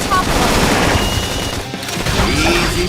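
Rapid, dense bursts of gunfire from a Xenoblade Chronicles X battle, loud and continuous, mixed with impacts and crashing blasts throughout, with brief voices woven into the combat noise.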